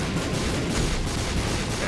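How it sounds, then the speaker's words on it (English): Explosions from the boss Greed in the video game The Binding of Isaac: Afterbirth+, a dense, continuous barrage of loud blasts and gunfire-like bangs filling the whole clip. "the explosions follow where Greed jumps, so just get out of the way of it."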